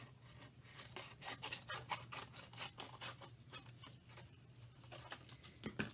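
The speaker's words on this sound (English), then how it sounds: "I'm going to cut off the end." Scissors cut through a paper bag to trim off its end, making a steady series of crisp snipping and rasping strokes over a low background hum.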